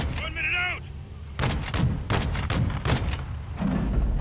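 Gunfire in the video game Call of Duty Modern Warfare 2, a series of sharp, heavy shots in an irregular burst of about six reports, close and loud, after a brief electronic tone and with voices faintly underneath.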